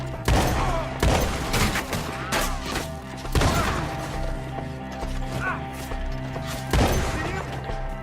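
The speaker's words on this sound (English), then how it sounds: "Shoot that bastard off his branch!" Gunfire in Red Dead Redemption 2 cracks out as several loud, sharp bursts spaced across the clip, over a steady bed of game noise and what may be hoofbeats.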